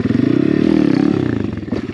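An Apollo pit bike engine revs hard for a wheelie, a loud close buzzing drone that rises in pitch and then drops away over a couple of seconds.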